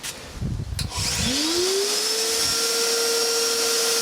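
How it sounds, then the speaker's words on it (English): A vacuum cleaner powered by a 1500-watt inverter switches on after a brief clatter, its motor whining up in pitch and then holding a loud, steady drone. "we'll just give a quick test anyway on the vacuum cleaner"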